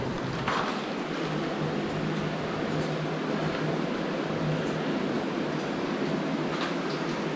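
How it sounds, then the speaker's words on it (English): A steady, even rush of water flowing inside a cave fills the space with a broad hiss and roar, unbroken throughout and with no talking. "really start to hear the water now."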